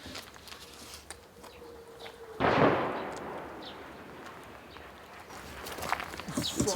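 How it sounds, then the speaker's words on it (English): Distant artillery fire in a war zone in the Donbass: one heavy boom rolls in midway and decays slowly, with a few fainter thuds and some bird chirps around it. "That's U-Crop artillery inside the 100-kilometer zone"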